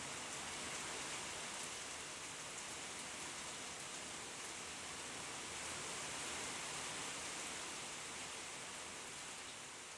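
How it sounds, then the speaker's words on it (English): Heavy rain pouring in the video game Doom 3, a dense, steady hiss of downpour filling the whole stretch at constant loudness with no pauses. "Really pouring down."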